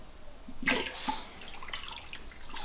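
Hydroponic nutrients stirred into water for a deep water culture setup, a few soft close sloshes and splashes over a couple of seconds, quiet and alone.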